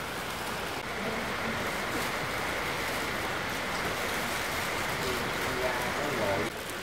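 Steady rain pours down on a farm in the Vietnamese countryside, a dense, continuous hiss that holds evenly from start to finish. Close and fairly loud, it tapers only slightly at the very end, with no other sounds standing out.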